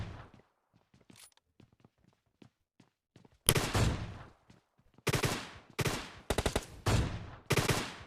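Gunfire in the mobile battle-royale game PUBG Lite: a few quiet taps at first, then loud bursts of automatic fire in several rapid volleys, close and punchy with short gaps between, no talking.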